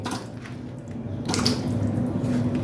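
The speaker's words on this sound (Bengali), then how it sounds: "এখন আমি এগুলো জলের মধ্যে দিয়ে ধুয়ে নেব" Cut kohlrabi pieces are washed under steady running water, a continuous near splashing stream that grows slightly louder partway through.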